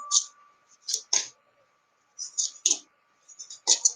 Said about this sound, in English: So I shuffle, shuffle, shuffle.